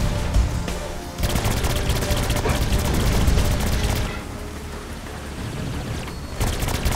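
SMG gunfire in the video game Saints Row IV: a dense, continuous rapid-fire rattle that runs through most of the clip, easing briefly before picking up again, with a faint voice in the mix.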